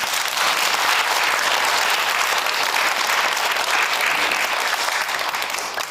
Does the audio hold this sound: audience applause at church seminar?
yes